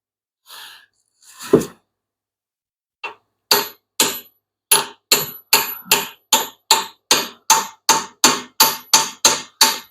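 Steel hammer striking a Ford 8.8 axle part in a garage, a string of sharp, evenly spaced metallic blows that grow louder and faster after a few scattered opening knocks, close and prominent.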